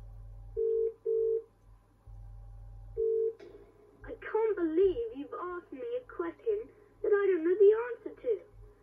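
Phone-a-friend dialing in the Who Wants To Be A Millionaire family DVD game: a few steady tone beeps, then a later single tone, followed by a person speaking in a clear, close voice.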